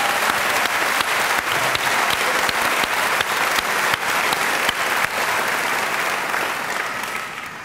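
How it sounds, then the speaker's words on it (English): A large audience at the 2011 Heinz College diploma and awards ceremony gives the graduates a sustained round of applause, loud and dense with sharp individual claps close by, tapering slightly at the end. "Please join me in a well-deserved round of applause for our graduates' outstanding accomplishments"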